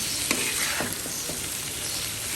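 Potatoes frying in a pan, a continuous sizzle broken by a few brief scraping stirs, close and steady, with no voices.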